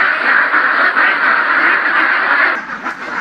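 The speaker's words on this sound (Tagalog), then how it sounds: "malalagyan na po ito ng itik" Ducks, a group of domestic itik in a new raised duck house, quack loudly and continuously close by, their overlapping calls dense throughout and thinning slightly near the end.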